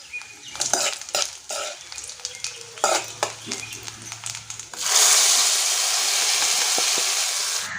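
Vadagam tempered in sesame oil in a pan for a wedding-style kara kuzhambu: a run of quick stirring clinks and scrapes, then a sudden loud, steady sizzle that holds to the end.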